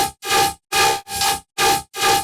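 A bright, gritty top support bass synth from Serum, meant for a dubstep drop, pulses in six choppy bursts with brief silent gaps between them, full of harsh buzzing upper harmonics and little low end.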